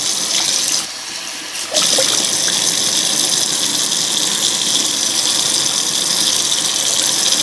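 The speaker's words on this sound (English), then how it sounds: "we'll introduce water to the intake, and then we'll run it through, around, and down this way, and dump it out" Water gushes steadily through the plastic air intake and housing of a Philips DreamStation 1 CPAP machine being rinsed, a loud continuous rushing stream that briefly dips and then returns at full strength.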